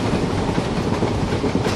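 Train in the mobile game Trainz Simulator on the Visakhapatnam route rolls steadily, a dense continuous rumble of wheels and carriages at close range with no talking.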